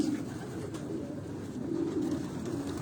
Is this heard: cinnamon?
no